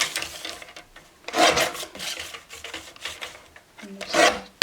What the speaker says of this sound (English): then we're just going to trim around